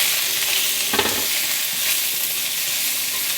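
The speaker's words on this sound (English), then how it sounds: "I'm going to add some oil, and we're going to start frying our vegetables." Green onion fries in hot oil in a pan with a steady, loud hiss of sizzling, and a brief stir or clatter near the start, with no talk.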